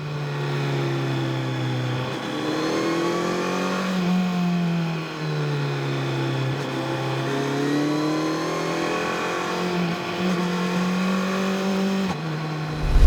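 Classic rally cars drive past on a road in the Dolomites, engines droning and revving with rising and falling pitch as they pass close by, loud and continuous, with no talk.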